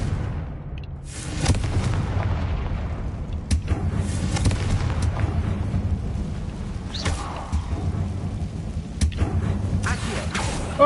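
The Confringo blasting spell explodes in a Hogwarts Legacy catacomb, heavy booming blasts and rumbling debris over a steady dense roar, with sharp cracks recurring across the scene.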